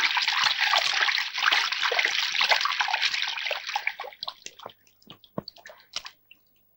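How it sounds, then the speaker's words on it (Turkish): Water pours steadily from a tap in a loud, close hiss, then it is shut off and gives way to scattered drips and small splashes. "Soğuk suyu aç."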